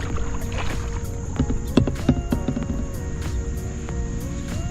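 Kayak paddling on the Macatawa River near a park, with soft rhythmic paddle strokes and water drips close by over a steady backdrop of insects and crickets.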